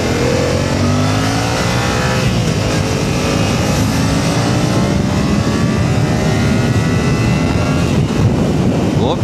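A Yamaha MT-07 motorcycle engine drones loud and steady as it accelerates on the road, its pitch climbing through the gears beneath strong wind rush, with no talk.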